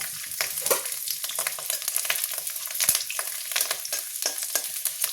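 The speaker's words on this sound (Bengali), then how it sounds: "তো রসুনটাকে একটু ভালোভাবে লাল লাল করে ভাজা ভাজা করে নেব" Peeled garlic cloves frying in hot oil, with close, continuous crackling and sizzling dotted with quick spits and pops.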